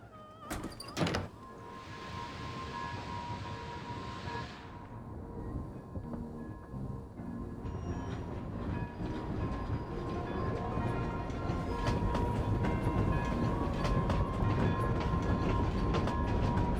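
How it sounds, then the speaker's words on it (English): Train ride in the video game Genshin Impact: a heavy thunk opens into a steady rolling rumble with rhythmic rail clatter and faint mechanical whine, gradually swelling louder over the stretch, with no speech. "we actually have to sit in the train and wait"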